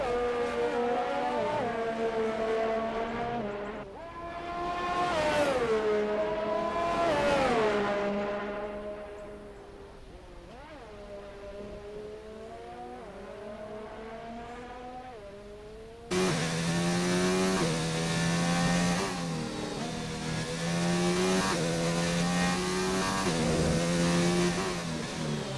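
Ferrari race cars burst onto the track at Bahrain, engines droning and rising and falling in pitch as they pass, with a louder, denser roar of several cars joining near the end, steady throughout, no voices.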